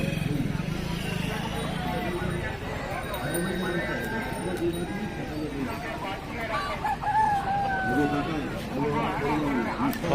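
Roosters crow amid the steady din of a busy Indian market selling chickens and fighter cocks, with crowd chatter and people talking throughout, the calls fairly faint and scattered.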